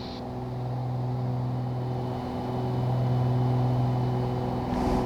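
Airliner jet engines build power during acceleration as heard inside the cockpit, a steady deep drone with sustained humming tones that swell slightly in loudness, continuous and without talk.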